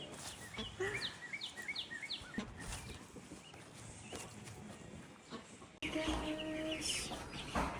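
Week-old ducklings peeping, a run of high, rapid chirps that rise and fall, close but fairly quiet under a steady background hum, with brief human voices around them.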